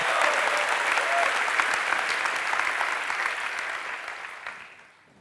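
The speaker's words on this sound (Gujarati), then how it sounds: "સાંભળ્યા પહેલા તાળી પાડો છો" A lecture audience bursts into sustained, dense applause of many hands clapping together, steady and fairly loud before thinning out and fading away at the end.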